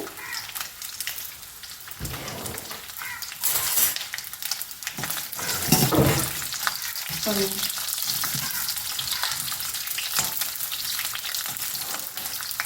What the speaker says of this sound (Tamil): தேங்காய் வெள்ளை பூண்டு இஞ்சி எண்ணெயில் போட்டேன்